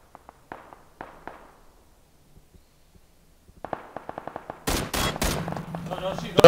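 Gunfire in the video game PUBG: a few faint distant pops at first, then a quick run of sharp shots, and finally loud close bursts of rapid automatic fire with muffled voices underneath.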